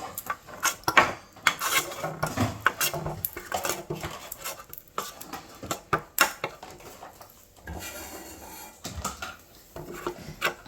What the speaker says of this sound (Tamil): இப்போ இந்த கரமலை வந்து நாங்கள் இந்த சட்டி பாத்திரம் ஃபுல்லாக பரப்பி விடுவோம்.